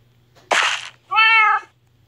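Two cat meows from a video game, one breathy and noisy, then a clear tonal meow, both close and fairly loud over a low background hum, with no talking.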